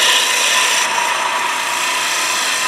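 A lathe gouge riding the bevel on a spinning piece of wood being turned into a doorstop, producing a loud, continuous close hissing rasp of shaving wood with a steady motor drone underneath.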